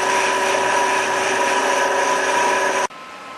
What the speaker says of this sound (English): the chip auger, it is working